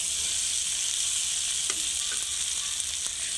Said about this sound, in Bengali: এর মধ্যে সিদ্ধ করা আলু আর লঙ্কা ফেলে রেখেছিলাম সেটাও দিয়ে দিচ্ছি। এবার খুব সুন্দর করে ভেজে নেব আলুগুলোকে।